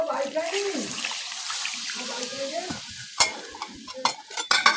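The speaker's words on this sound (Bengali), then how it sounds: "এবার জল দিয়ে দিব" Water is poured into a chicken, papaya and potato curry in a pan, bringing a splashing, bubbling sizzle with stirring scrapes, moderately close, followed by sharp clatters near the end.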